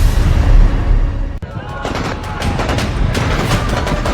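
Gunfire at protesters in Rawalakot, Pakistan-occupied Kashmir, a rough, loud spread of overlapping shots and bangs with crowd noise and a sharp crack partway through, recorded from within the commotion.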